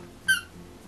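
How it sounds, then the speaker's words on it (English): A dog's squeaky toy gives a single short, sharp squeak, loud and close against a quiet indoor room, with no talking. "You have to play with a squeaky toy"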